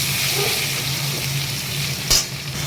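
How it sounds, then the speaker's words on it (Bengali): Eggplant fries in oil in a pan with a loud, even, hissing sizzle throughout, interrupted once by a brief clink of a utensil near the end. "বেগুনটাও দিয়ে ভাজা ভাজা করে নিচ্ছি"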